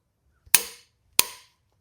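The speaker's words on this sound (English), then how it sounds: "we'll take a hammer and try to knock it loose." A hammer striking a tight engine harmonic balancer bolt, two sharp metallic cracks about two-thirds of a second apart, each with a short ringing decay, close and loud.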